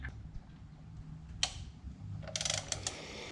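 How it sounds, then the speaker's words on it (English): A crank bolt is threaded into a turbocharged Toyota JZX100 Chaser engine, with quiet ratcheting clicks and a few sharper metallic taps, close and fairly soft in a brief burst. "We'll just quickly screw this crank bolt in because we're going to have to get the timing set again"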